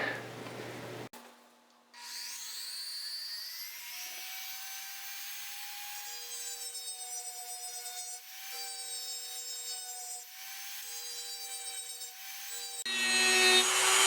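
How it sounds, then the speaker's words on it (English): A Dremel rotary tool sands a Glock trigger guard with a steady high-pitched whine, slightly wavering, that runs for most of the stretch after a brief startup and stops near the end. "I'm going to go ahead and fire up the Dremel"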